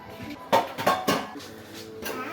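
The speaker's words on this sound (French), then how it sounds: "On va prendre un plat en inox." Stainless steel dish handled in a home kitchen, giving three quick metallic clatters close by, then a softer knock, with no talking.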